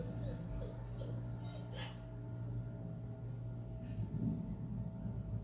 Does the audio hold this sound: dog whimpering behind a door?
yes